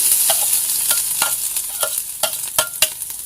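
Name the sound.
stir-frying curry paste in oil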